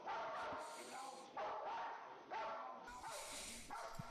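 A puppy barks and yips in short bursts, fairly close, with background noise throughout and a voice speaking at one point.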